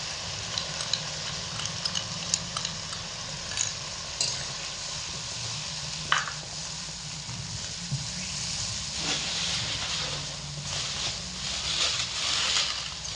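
Pre-made spice paste (masala) fries in oil over medium heat, holding a constant hiss and sizzle with scattered ticks and scrapes of stirring throughout.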